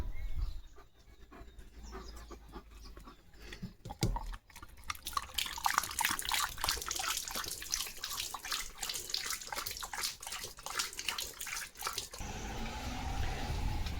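A German Shepherd laps water in a steady run of wet, splashy slurps, close and continuous, with a brief pause and a change in tone near the end.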